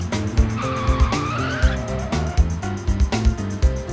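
Monster truck engines roar and rev hard during racing, loud and close, with sharp repeated bursts of throttle and squealing, skidding tyres.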